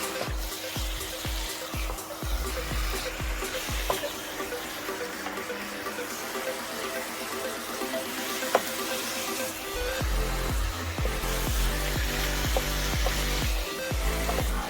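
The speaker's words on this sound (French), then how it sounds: "On mélange bien le tout pour que les épices tous les ingrédients que j'ai mis dedans puissent se pénétrer dans la viande" A pot of sweet potato leaf sauce with meat, ginger and spices sizzles steadily while a spoon stirs it, making a continuous hiss with repeated light scraping knocks.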